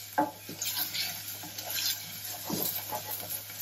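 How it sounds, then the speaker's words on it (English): Pearl onions caramelising in a pan for boeuf bourguignon, a soft steady sizzle with occasional spoon stirs and light pan knocks, close and fairly quiet. "They're browning so quickly because the sugar content in onions is so high."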